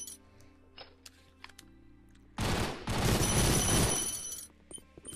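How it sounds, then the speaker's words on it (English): Triple-burst assault rifle fire in a VR shooter game, a sudden loud crackling volley of rapid shots lasting about a second and a half after quiet clicks and handling sounds. "now the rifle is a triple burst"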